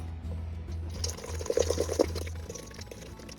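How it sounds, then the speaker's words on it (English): Blueberry banana pie filling, sweetened with sugar, vanilla extract and farina, poured into a pie dish as a soft, wet glugging pour with a few thick plops midway, close and fairly quiet over a low steady hum. "Pour the filling into the pie dish."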